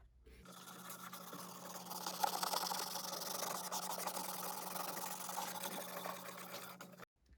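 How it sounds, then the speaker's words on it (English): Sandpaper of 100 grit scrubs over a vintage metal sled frame, a steady close rasping hiss that runs continuously for several seconds with no talk. "I've got some 100 grit sandpaper, and I'm not going all the way down to the metal, but I'm just trying to clean it up"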